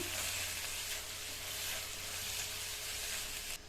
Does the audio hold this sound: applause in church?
no